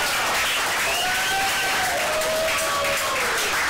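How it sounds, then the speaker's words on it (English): Applause at a Los Angeles Tecmo Super Bowl tournament finals: a crowd claps steadily and fairly loudly throughout, with a few whistles rising over the clapping. "Mr. Isaac Rice, give a round of applause"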